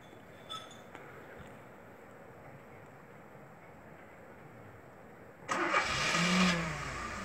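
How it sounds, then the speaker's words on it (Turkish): A Tofaş car engine, started by remote, cranks and catches, then settles into a steady idle, preceded by faint clicks and near silence. "Şimdi çalıştırıyoruz."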